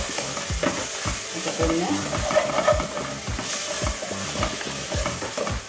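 A teaspoon of ginger garlic paste sizzles in hot oil in a pan while fish biryani is cooked, and a spoon scrapes and stirs it in a steady rhythm. The frying noise is loud and close, with a few brief spoken words.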